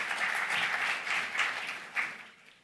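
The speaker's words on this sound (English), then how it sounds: "Can we have a round of applause for Mr." A round of applause from a summit audience for a government minister, dense crowd clapping that swells in waves and then fades out toward the end.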